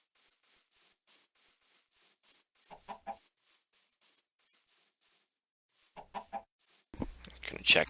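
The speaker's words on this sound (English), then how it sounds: "we got lots of chickens around" Minecraft chickens cluck softly in two brief bursts over a steady patter of footsteps, with a louder noise breaking in at the end.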